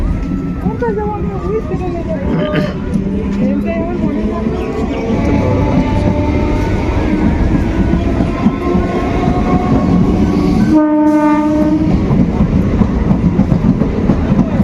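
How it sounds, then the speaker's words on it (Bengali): A train rumbling past close by at a station, heavy rolling clatter of wheels on rails, with a voice talking over it and a brief horn-like tone near the end. "এই যে ট্রেন চলে যাচ্ছে।"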